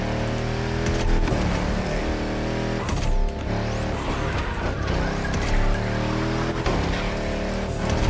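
A Volkswagen Touareg build drifts sideways in The Crew Motorfest, engine roaring close while tires squeal and skid in repeated bursts over several seconds, loud and alone.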